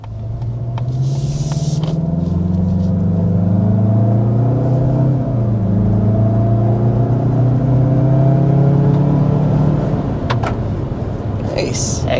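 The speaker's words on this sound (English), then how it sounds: "first we want to go ahead and start with that turbo acceleration" Inside a 2025 Mazda CX-30 with a turbo engine, a steady engine drone rises in pitch under hard acceleration, with harmonics sweeping upward across several gears, heard from the cabin with a brief click near the start.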